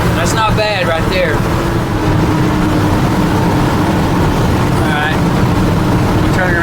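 A car engine fitted with a rebuilt Quadrajet carburetor runs at a loud, continuous idle with a deep low rumble throughout, while someone talks briefly over it.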